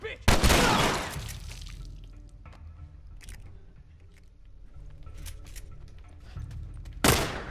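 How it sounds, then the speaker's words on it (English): Loud, close gunshots in The Last of Us Remastered on PS4, one sharp blast at the start and another at the end, with quieter game ambience and scattered small clicks between them and no talk. "I'm just gonna put a shot into his face"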